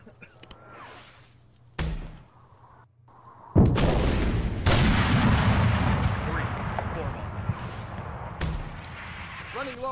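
Frag grenade blasts and heavy gunfire erupt during an ARMA 3 firefight, sharp loud bangs followed by a dense rumbling explosion around the middle, with a voice shouting between the hits.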